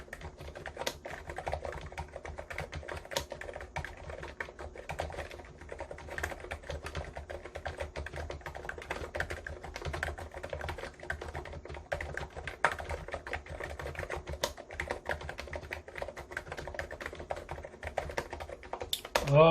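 Rapid, continuous keystrokes on a Hansung GK893B keyboard with capacitive non-contact switches, a dense stream of soft, close-up clacks with no voices.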